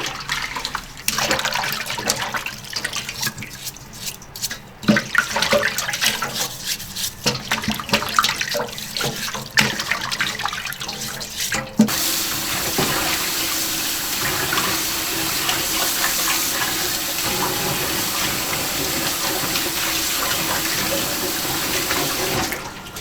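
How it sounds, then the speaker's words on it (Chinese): Pork belly skin scrubbed with steel wool under running water, a steady hiss of water from a tap with rough rubbing and scraping, turning into a broader continuous rush of flow partway through. "我们把肉的表面给它刮洗干净哈。 我们还是用钢丝球搓一下。"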